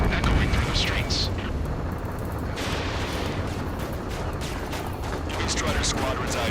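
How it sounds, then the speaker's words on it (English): Gunfire and explosions from a war video game set in a city under martial law, a dense, continuous roar of battle noise with sharp cracks and bursts throughout, loud and close. "Gunfire and the roar of jets echoing through the streets."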